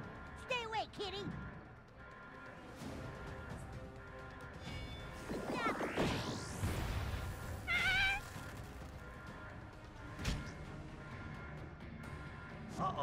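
Audio from the video game South Park: The Fractured but Whole, during a cats boss battle, with several cat meows rising and falling over busy background sounds, including a sweeping tone and occasional crashes.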